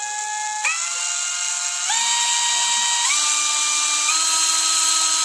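A Nanwei cordless drill runs on its variable speed trigger, its high motor whine stepping up in pitch in several stages as the speed increases, loud and close with no talk.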